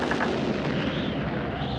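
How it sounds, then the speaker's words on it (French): Cannon fire in a French cartoon set near a whale-mouth bay: a dense, booming rumble that fills the short stretch without a break. "Eh, on tire au canon ou quoi?"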